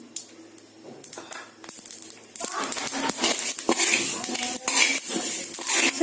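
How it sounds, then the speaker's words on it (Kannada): Flax seeds crackle and pop in a warm pan while being stirred with a metal spoon, with scraping and clinking against the pan over a busy crackle that grows louder after the first couple of seconds. "ಇವಾಗ ಇದು ಚಟಪಟ ಅಂತದೆ."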